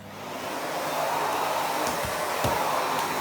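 A Miele S5281 2200-watt vacuum cleaner runs on a lower setting over a wooden floor, a steady close whooshing motor drone with a few brief knocks and clicks, no voices.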